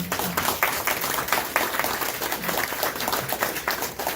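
Audience clapping at a Vietnam War Veterans Day gathering at a VFW post, a continuous patter of many hands with distinct individual claps standing out, moderately close and sustained throughout.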